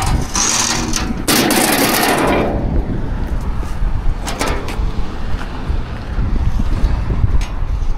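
Strong wind in Banff buffets the microphone with loud, rushing gusts, heaviest at the start, then a steady blustery roar with occasional knocks and clatters.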